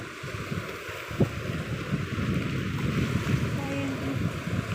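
Seawater at a shore during low tide produces a steady broadband wash of waves with heavy wind noise on the microphone, continuous and fairly loud, with a faint thump partway through.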